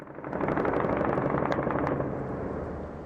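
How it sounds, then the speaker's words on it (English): Rapid bursts of celebratory automatic gunfire crackle continuously, dense and loud, with sharper individual shots popping out over a sustained rattling barrage. "Celebratory gunfire there."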